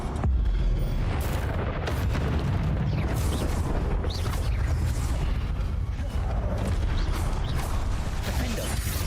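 Confringo spell explosions in the Hogwarts Legacy video game, a dense booming roar of blasts and rumbling debris that fills the whole stretch loudly, with a voice calling out over the game audio.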